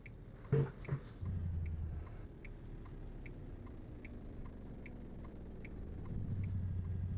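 A heavy truck engine in American Truck Simulator drones low and steady with a faint rumble, briefly swelling louder near the start and end, with soft ticking sounds and a few short clicks at the start.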